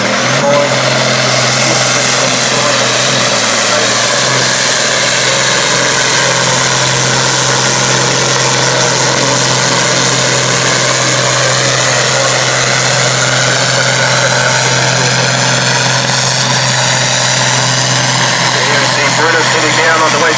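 A loud, heavy modified pulling tractor engine runs steadily nearby at a tractor pull, with a deep constant drone and rough vibration, unbroken for the whole stretch.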